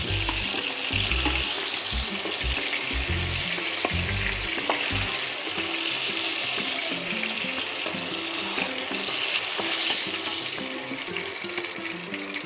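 Fried pumpkin pieces lifted out of hot oil, with loud continuous sizzling and crackling, a few low knocks from the utensil early on, and no voices.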